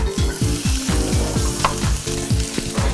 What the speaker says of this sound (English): I'm just going to add a splash of oil into this frying pan and saute my onion